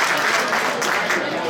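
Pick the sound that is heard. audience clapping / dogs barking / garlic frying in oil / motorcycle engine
audience clapping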